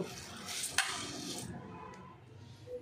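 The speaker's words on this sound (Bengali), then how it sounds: "এই যে আমি একটু চিড়ে নিয়ে নিয়েছি, এই চিড়েটুকু ধুয়ে নেব" Flattened rice (chira) being washed in a bowl for poha: soft swishing and stirring with a brief clatter of a utensil against the vessel, close and fairly quiet, no voices.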